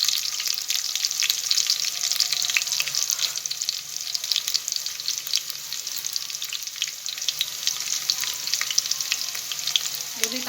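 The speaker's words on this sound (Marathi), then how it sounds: "कांदा भाजून घ्यायचा. लसूण अद्रक पेस्ट टाकू." Onions sizzle and fry steadily in a pan with garlic-ginger paste, a dense continuous crackle with occasional stirring scrapes, close and fairly loud throughout, with no talking.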